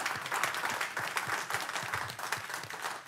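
At a council meeting, audience members applaud Mr. Riley with a moderate round of clapping, individual claps distinct and rhythmic within the group, ending with a brief bump of noise.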